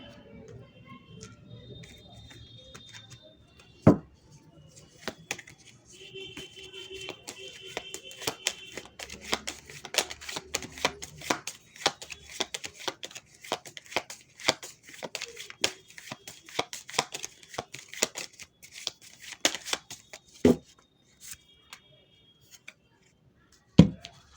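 Tarot cards being shuffled and handled at close range, a long run of quick, crisp riffling and slapping clicks with a few sharper taps, soft and without talk.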